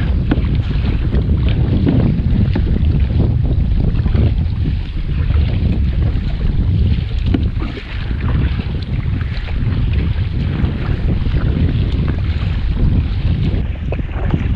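Strong wind roars steadily around a fishing boat at sea off Mar de Ajó, with waves building and washing against the hull, loud and continuous throughout with no talking.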